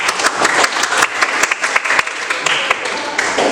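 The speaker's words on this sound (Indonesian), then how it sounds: "kita berikan aplaus untuk" An audience applauds after a classroom group presentation, steady mixed clapping from many hands, close and continuous for a few seconds.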